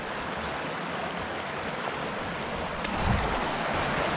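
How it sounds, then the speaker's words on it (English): Rapid water on the Pretty River rushes around a small rocky spot where a photographer stands. Steady, loud, broadband churning fills the whole stretch close by, with a slight swell near the end and no voices. "definitely a little bit challenging on this small spot right here with the rapid water running around me"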